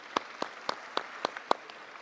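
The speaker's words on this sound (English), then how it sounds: "So please just join me to applaud our panelists." Audience applause for panelists at a science week entrepreneurship event, heard as a handful of sharp, evenly spaced claps, close and distinct rather than a dense roar, with no speech.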